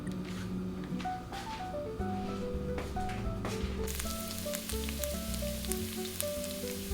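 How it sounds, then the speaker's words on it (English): Minced garlic sizzling gently in a little vegetable oil over low heat, a continuous close hiss with fine popping that grows brighter and louder about halfway through. "Add the minced garlic and cook it slowly over low heat."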